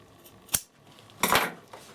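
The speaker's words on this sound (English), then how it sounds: "Just going to trim that off." Scissors trim fabric in two quick snips, a short crisp cut and then a longer rasping one, close and clear in a quiet room while making a toiletry bag.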